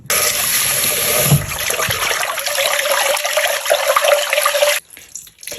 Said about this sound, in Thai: จะทำการล้างนะน้ำอุณหภูมิห้องหรือน้ำเย็นก็ได้นะในการล้าง